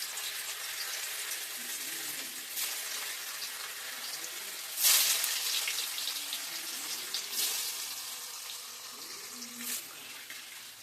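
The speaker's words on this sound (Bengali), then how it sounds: "এবার তেলটা যখন গরম হবে তখন পনিরগুলো ওতে খুব অল্প আঁচে ভেজে নেব।" Paneer pieces frying gently in hot oil over a very low flame, giving a steady soft sizzle with a few brief louder crackles and spatters, with no voices.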